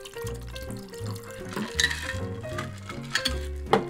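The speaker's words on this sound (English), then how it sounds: "Pour the cocktail over the ice." A gin Collins cocktail is poured over ice into a Collins glass, giving a close liquid splash and trickle with irregular ice clinks. A tonal background runs underneath.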